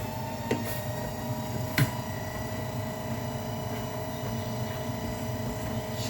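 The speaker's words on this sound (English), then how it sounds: "That's the extractor fan" A kitchen extractor fan runs loudly and steadily throughout, a constant droning hum with a couple of brief clicks layered over it, while spaghetti cooks nearby.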